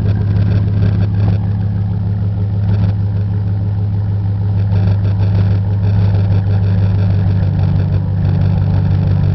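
Dodge Ram truck fitted with 35-inch tires idling close by, a steady, loud low rumble with an even throb and no revving.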